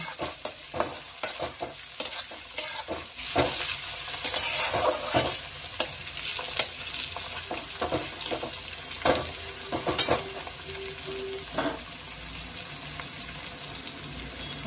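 Tomatoes sizzle in a pan for dum aloo, with a soft, continuous frying hiss broken by repeated scraping stirs of a spatula close by.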